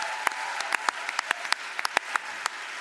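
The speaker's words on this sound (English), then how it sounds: "One more time, a massive round of applause, please." Applause from the audience at the 2022 ARIA Awards ceremony, a moderate crowd clapping steadily with scattered sharper individual claps standing out, fairly distant in a large hall.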